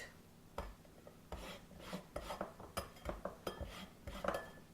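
Fresh lemon rasped against a grater, a series of quiet, uneven scraping strokes with small metallic clinks, faint and close.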